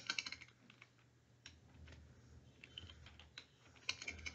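Typing on a computer keyboard: quick, irregular soft key clicks close by and fairly faint, with no talk.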